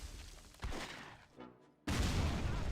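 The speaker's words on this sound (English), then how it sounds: "We're gonna fire high explosives at that area." High explosive shells fired in the World War II strategy game Close Combat 3, with a sharp burst at the start, a brief lull, then a loud sustained blast that runs to the end.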